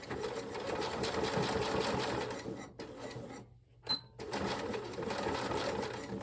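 A sewing machine stitches a fabric bag in a fast, steady mechanical whir, close and continuous, pausing briefly for about a second before resuming at the same pace.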